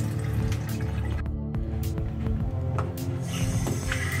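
Cold water runs from a tap in a continuous splashing, gurgling stream with occasional drips and clicks, close and fairly loud.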